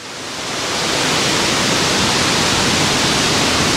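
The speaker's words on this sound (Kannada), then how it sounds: "ನೋಡ್ಬೋದು ಮೇಲಿಂದ ಹೆಂಗೆ ನೀರು ಬೀಳ್ತಾ ಇದೆ." Water pouring down from above at Bheemeshwara waterfall beside a stone temple, a steady, loud, broadband rush that swells in over the first second and then holds constant with no voices.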